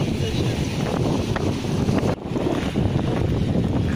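Strong wind on a Sea of Azov beach at Kamyshevatskaya buffets the microphone in a constant low roar with a brief dropout, while waves and voices murmur faintly underneath.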